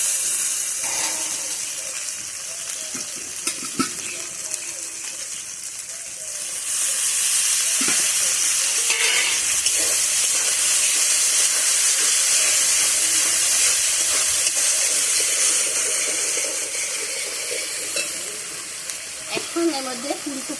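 Tomato added to a spice masala frying in a pan for a cauliflower chicken curry. A loud, close, continuous hiss rises sharply and holds steady, with occasional soft stirring scrapes and no speech.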